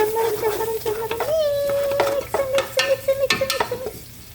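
Garlic frying in butter in a pan while being stirred, soft sizzling with scraping and clinking of a utensil against the pan, close and fairly loud, with a steady tone running underneath.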